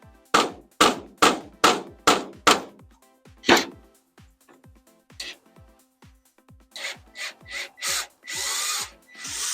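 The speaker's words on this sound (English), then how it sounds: "Now I gotta make sure this screw is actually planted into the board before I screw it in. So I'm gonna tap it." Close, crisp hammer taps set a screw into a board during granite base prep for a fire-damaged outdoor kitchen, about a dozen sharp regular knocks, then a rapid flurry of brighter strikes and a brief power-tool whir at the end.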